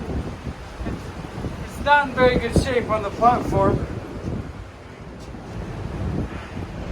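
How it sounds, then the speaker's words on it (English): Strong wind roars across the microphone in a steady gusting rush atop Shuckstack Fire Tower in Great Smoky Mountains National Park, with a person speaking over it. "it's so windy up here."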